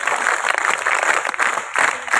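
Audience clapping at a school felicitation ceremony for students' success in competitive exams, a steady broadband wash of many hands that continues throughout at moderate loudness.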